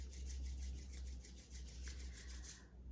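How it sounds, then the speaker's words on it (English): Palms rub briskly together during a quiet meditation session, making a steady, soft, breathy swishing friction noise that lasts a few seconds before trailing off into near silence. "You can rub your hands together just to kind of remind yourself of the power of friction."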